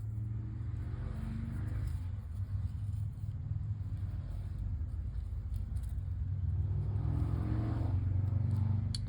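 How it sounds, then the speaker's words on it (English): A steady low rumble of road traffic heard through open windows carries on throughout, with swells as vehicles pass somewhere outside, distant and fairly faint. "Sorry if you can hear that traffic outside."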